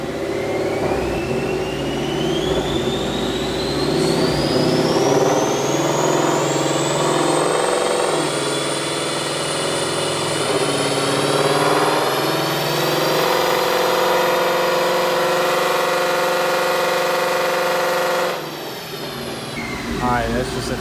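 2019 Ford Mustang GT on a dyno, engine note climbing steadily through the gears in one long loud pull with rising whine, dropping off near the end.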